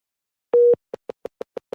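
A telephone sounds after a dropped call: one longer steady beep, then a quick run of six short evenly spaced beeps, clean and close with nothing else around.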